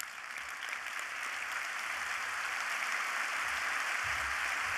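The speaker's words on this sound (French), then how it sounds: "je vous propose qu'on se lève tous pour l'applaudir, pour le saluer et pour le remercier" A standing ovation from the audience at the As d'Or games awards ceremony at the Cannes International Games Festival, a steady dense roar of clapping that holds at an even level throughout, with low thumps near the end.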